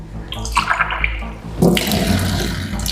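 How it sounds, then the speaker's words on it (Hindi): Water splashes and pours loudly for a few seconds, starting with softer sloshing before a heavier burst of running, tap-like flow takes over. No one speaks. "पानी भी छलक रहा है।"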